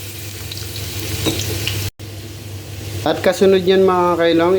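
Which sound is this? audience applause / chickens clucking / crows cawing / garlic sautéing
garlic sautéing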